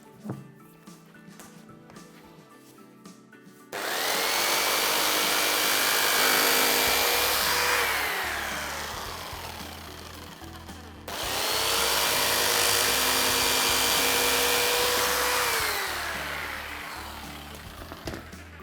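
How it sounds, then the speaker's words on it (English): A jigsaw cuts an LVT vinyl flooring plank in two loud, buzzing passes separated by a short pause, with a quieter room hum before the first cut. "Now the fifth one is a jigsaw."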